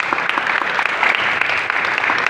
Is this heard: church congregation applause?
yes